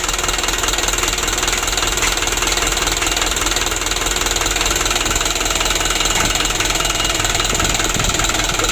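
A 2016 Hino Dutro 130 HD truck engine idles with a steady, loud diesel clatter and rhythmic knocking, heard close up and unbroken throughout.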